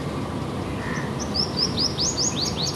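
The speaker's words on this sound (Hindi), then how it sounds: "जैसे चिड़ियों की चहचहाहट और सुबह सुबह का जो इन्वायरमेंट है वो अच्छा लगता है" Morning birds chirp over soft outdoor background noise, with a quick run of about eight bright, rising chirps in the second half, moderately close and without talk.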